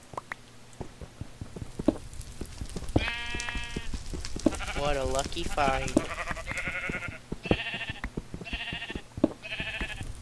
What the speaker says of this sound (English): I hear a sheep.